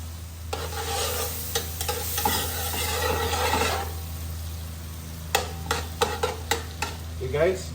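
Butter or margarine sizzles and fries steadily in a pan while being stirred for a pineapple chicken wings dish, a continuous crackling hiss broken near the end by sharp utensil clinks against the pan.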